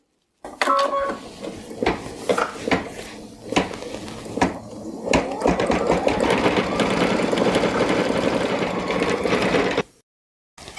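A sewing machine stitches applique toenail details, starting with short bursts of rapid needle clatter broken by pauses, then running in one longer continuous whirring stretch before stopping abruptly; close and fairly loud, no voices.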